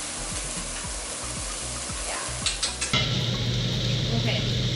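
Japchae clear noodles sizzle in a hot pan while being stirred, with rhythmic scraping strokes and clattering against the pan, then a steady loud frying hiss takes over near the end.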